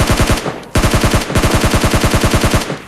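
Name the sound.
shotgun fire in PUBG Mobile Lite video game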